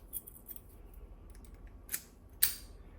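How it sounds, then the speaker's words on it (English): An American Lock 5200 series padlock, US stamped, snaps its shackle open with a sharp metallic click near the end, after a smaller click a moment earlier, over a quiet background. "Ooh, nice shackle pop there."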